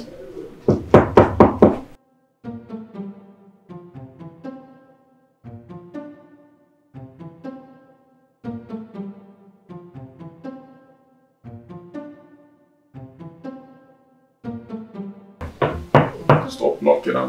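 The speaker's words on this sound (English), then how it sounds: "Stop knocking, I'm coming." Repeated knocking on a door in a home at night, arriving in about nine short bursts of several raps each with brief gaps, while speech can be heard at the beginning and end.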